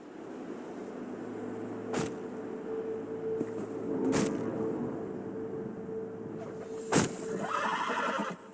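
A horse whinnies in a video game, The Elder Scrolls Online, over a steady low ambient hum, with a few sharp transient sounds breaking through at intervals.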